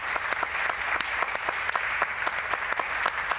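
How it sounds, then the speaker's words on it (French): Audience applause after a panel discussion, dense and steady with crisp individual claps, continuing throughout without a break. "On peut les applaudir."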